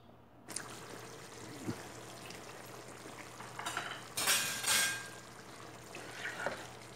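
Chicken for biryani cooks quietly in a pan, a faint steady sizzle broken by a few soft stirring scrapes and clinks.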